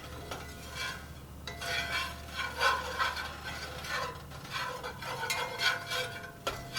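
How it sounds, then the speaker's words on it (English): A whisk stirs sliced onions and flour together in a pan, giving repeated scraping, rhythmic strokes at close range with no talking. "I'm just going to kind of stir these all together until my onions are all coated with the flour"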